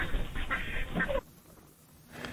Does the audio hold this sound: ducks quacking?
yes